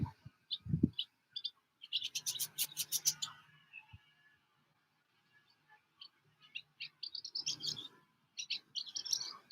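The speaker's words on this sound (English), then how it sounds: "Birds over there talking to me, like looking at me and talking" Small birds chirp and tweet outdoors near a porch, a swallow's nest close by, with bursts of quick high calls coming and going, fairly near but soft, and no talking.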